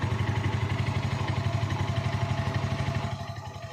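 A Musstang ST200 motorcycle idles while warming up before an oil change, a steady, rapid, close-up engine putter with a slightly clattery edge that eases a little in volume near the end, no voices.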